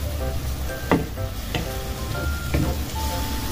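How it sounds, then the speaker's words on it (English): Pork sizzling in a pan of adobo marinade with coconut water as it is stirred and browned, a steady close frying hiss broken by a few sharp scraping stirs. "mix lang natin siya until yung ating pork becomes brown"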